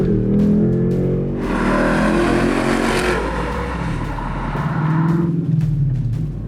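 A Ford Mustang S650 with a MagnaFlow xMOD exhaust set to track mode roars close by, the engine rising through a long loud rev, easing off, then building again into a deep burbling rumble.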